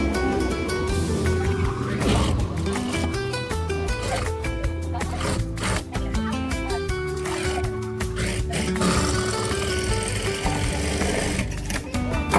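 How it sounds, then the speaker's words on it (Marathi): A sewing machine stitches the turned edge of a blouse neckline, its rapid mechanical whir running steadily and close throughout with brief pauses and restarts. "त्यावर आपली शिलाई मारायची ती ही किनारीच मारायची"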